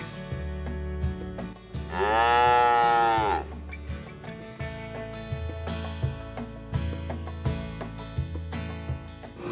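A Holstein cow lets out one long, loud moo, close by, rising over steady background music that plays throughout.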